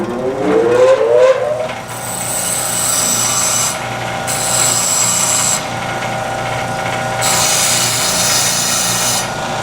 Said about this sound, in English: So the first thing I'm going to do is clean the wheel, get a nice sharp surface to work with.